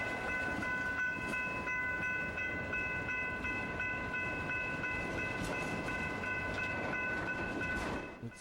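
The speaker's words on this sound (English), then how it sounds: "the holiday train's going to go right across these tracks" A holiday train rolls across nearby tracks in November, a steady loud rumble and rattle of wheels and cars with sustained whistle-like tones, continuous throughout without talk.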